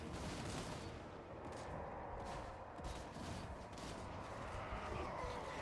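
Dense, continuous volleys of gunfire from dwarf units in a Total War: Warhammer 2 battle, a steady crackling fusillade with overlapping shots lasting throughout and no voices.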